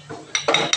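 A utensil stirs a mixture in a bowl, giving a few light clinks and scrapes in quick succession, close and fairly soft.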